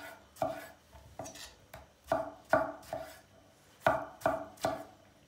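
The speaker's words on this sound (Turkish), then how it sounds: "Domateslerimizi de kuşbaşı doğrayacağız." Knife chopping tomatoes into cubes on a cutting board for a Turkish tas kebab, about ten crisp, distinct thuds at an uneven rhythm, close and clear with no talking.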